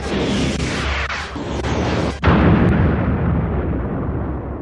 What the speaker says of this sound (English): We're gonna attack that invincible Death Star! What the? to blow up the Death Star